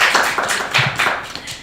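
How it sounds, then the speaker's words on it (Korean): At a book launch event, a small audience claps loudly and close by for a short burst, the individual hand strikes distinct and slightly uneven, with no voices over it. "와, 박수."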